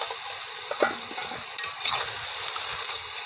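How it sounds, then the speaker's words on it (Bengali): Potato, pumpkin stem and eggplant curry with fish being stirred in an uncovered pan, soft sizzling under scattered scrapes and knocks of a spoon, close and continuous, no speech. "একটু নাড়তে হবে।"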